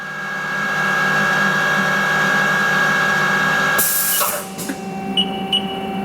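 A 2018 Haas ST-10Y CNC turning lathe with Y-axis live milling runs its live tool at 3000 RPM, giving a steady close machine whine and hum. After about four seconds a brief broadband burst breaks in and the tone changes.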